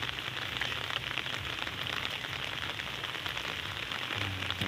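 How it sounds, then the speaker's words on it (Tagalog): Steady rain falls outdoors near a fish trap set in muddy ground, a constant dense hiss with no talk, fairly close and even throughout. "Naulan kasi."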